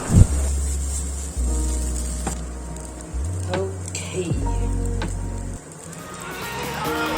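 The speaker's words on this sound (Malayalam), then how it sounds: "നന്നായിട്ട് ഇളക്കി കൊടുക്കുക." Masala idli mixture is stirred in a sizzling pan, with spoon scrapes and clinks over a steady frying hiss and a low musical hum in the background.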